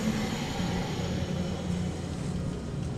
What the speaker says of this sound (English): It sounds nice. Compressor, that is. And the fan started.